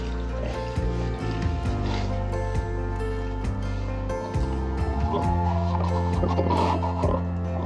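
Chicks clucking and peeping near a feeder over a steady hum of background noise, with soft scattered movement sounds and a brief burst of chirps toward the end.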